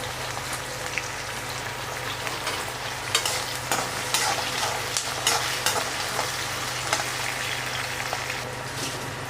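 Cluster beans with garlic and ginger sautéing in a pan, a dense continuous sizzle with scattered stirring scrapes and taps, close up beneath a low steady hum from the kitchen.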